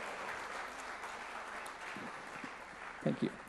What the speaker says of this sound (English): Let's have a round of applause for Anupam.